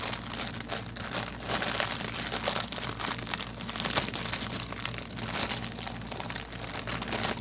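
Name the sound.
plastic thread bag crinkling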